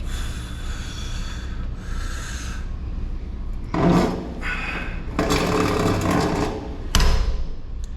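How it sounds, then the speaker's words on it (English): A sticky rowing machine at a gym grinds and scrapes through heavy, uneven strokes, with repeated rubbing and knocking bursts close to the microphone and no talking. "That is one sticky machine."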